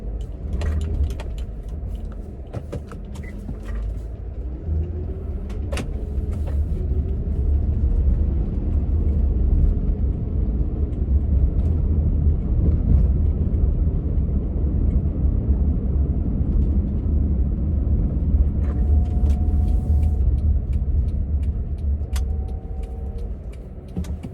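Inside a moving car, a steady low road rumble fills the cabin for over twenty seconds, with scattered light clicks and rattles on top and no voices.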